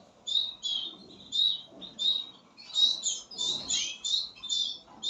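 Young chicks in a nest chirping in a steady series of close, high, repeated calls, arriving in regular bursts with faint rustling underneath.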